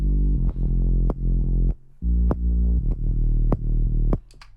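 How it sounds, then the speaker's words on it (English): A bass stem separated from a full track and played back in FL Studio: sustained low bass notes with sharp kick drum thumps bleeding through at a steady beat, loud and alone without talk. "So if we do the bass that's separated from the track,"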